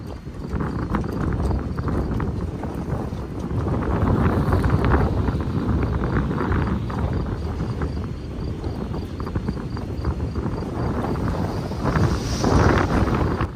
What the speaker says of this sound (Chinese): 晚上突然吹起大风了